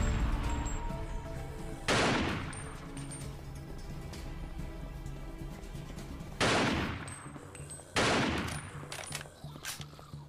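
Assault rifle fire in the Zombie Hunter video game, a sustained rattle of rapid shots with sharp loud bursts recurring over continuous game noise.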